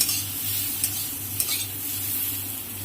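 Bitter gourd and other vegetables fry together in a pan and are stirred, a steady close sizzle with occasional scraping taps from the utensil.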